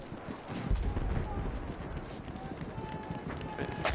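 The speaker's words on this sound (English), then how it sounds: "I swear I heard footsteps, man." Footsteps running over rough ground in the video game Battlefield 1, a rapid, dense patter mixed with gusty wind and distant battle noise while players talk.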